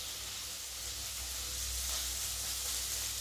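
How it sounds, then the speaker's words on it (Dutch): Beef steak fries in hot fat in a frying pan, giving a steady, loud, continuous sizzle and hiss with no talking. "We gaan de biefstuk om en om lekker bakken in de koekenpan."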